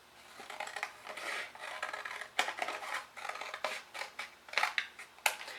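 Scissors snipping through a mixed media journaling card, a run of crisp, uneven cuts and rustles close by, with the sharpest snips near the end and no talking.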